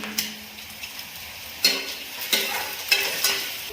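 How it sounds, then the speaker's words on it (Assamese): Onions fry with dried chillies in a kitchen pan, giving a steady soft sizzle broken by several sharp scrapes and clinks as a utensil stirs the pan. "পিঁয়াজখিনি অকণমান ৰঙচুৱা হ'বলৈ দিম এতিয়া আমি, আৰু লগত দুটা শুকান জলকীয়া দিম।"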